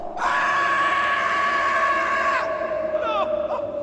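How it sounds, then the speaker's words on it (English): Terrible, drawn-out screaming used as a sound effect in a story set on the moors, one loud sustained wail for over two seconds that breaks off, followed by a few shorter rising cries. "Suddenly, they heard terrible screams."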